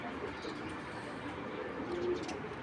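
A young racing pigeon coos softly and low, a brief murmuring call against a dull background hum.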